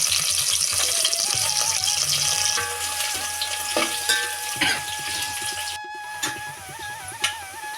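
Onions sautéing in a pan for a mushroom biryani, a steady close sizzle with scattered stirring scrapes and clicks running throughout, no voices.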